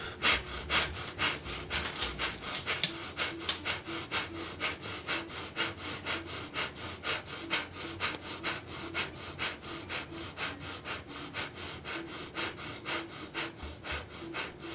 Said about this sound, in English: Thumbs extended, breath of fire.